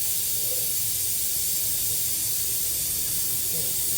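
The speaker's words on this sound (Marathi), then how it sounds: "तेजपत्ता टाकूया आपण." A bay leaf sizzles in hot oil in a clay pot, giving a steady, close hiss that runs without a break.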